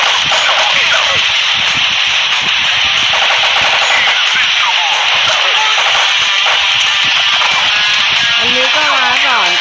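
Dense, loud gunfire from the mobile shooter game Crisis Action, fired from a Halo Knight weapon, rattles almost continuously under a man's speech.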